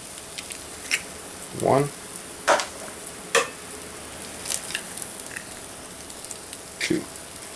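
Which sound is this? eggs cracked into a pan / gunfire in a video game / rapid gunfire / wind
eggs cracked into a pan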